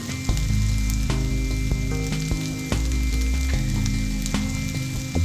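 Cluster beans sizzle and fry in a pan for gongura curry, a steady crackling hiss with frequent sharp spatters and occasional stirring clicks, close and loud.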